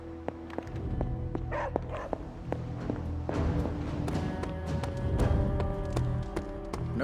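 A dog barking in the video game Marvel's Midnight Suns, a string of repeated close barks and yips over a busy background of footsteps and ambient game sound, with no talking.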